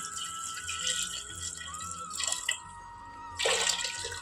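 Water pours into a cooking pot holding tomato, green chilli, chana dal and salt, with a steady splashing stream and a rattle of the vessel, then a louder gush near the end.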